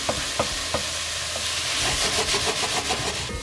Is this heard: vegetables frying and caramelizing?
yes